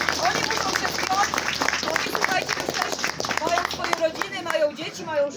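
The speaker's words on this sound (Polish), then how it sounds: "dajmy jeszcze e, bardzo gorące brawa dla całego pułku 24" Warm applause for the whole 24th Uhlan Regiment at a Christmas Eve gathering, steady clapping from a crowd with babble and voices mixed in, moderately loud and sustained.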